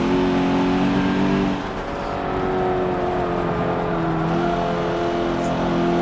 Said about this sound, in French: Je sais pas si vous entendez les pneus.